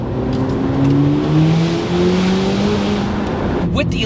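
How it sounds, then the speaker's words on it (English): A 2026 Corvette ZR1X with a hybrid turbocharged engine and electric motor assist pulls hard, its engine note climbing steadily in pitch as it accelerates; loud and close from inside the car, with a brief exclamation near the end. "With the electric motor helping the turbos and helping the combustion motor spool up, it just smacks you in the face."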